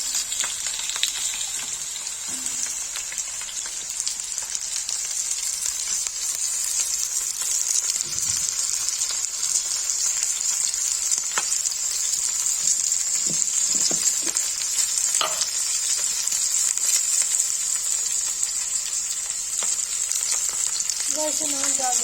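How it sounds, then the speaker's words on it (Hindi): Sliced lotus stem (nadru) frying in hot oil for a Kashmiri spinach curry, a steady, loud crackling sizzle that carries unbroken from start to finish with a few soft clinks, no talking. "तेल गर्म हो जाएगा तो नदरू फ्राई करेंगे।"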